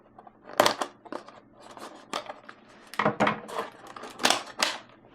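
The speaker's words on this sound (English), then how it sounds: "let me cut this zip ties" Scissors snip zip ties on the packaging of a Losi Micro B 1/24 scale RC buggy, giving several sharp, close cuts in irregular bursts with plastic rustling in between and no talking.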